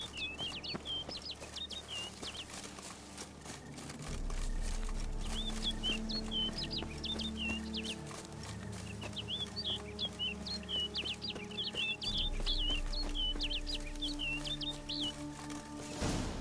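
Chicken clucking from the video game Witcher 3 Blood and Wine, a series of faint, repeated clucks in short bursts over a steady low game ambience and hum.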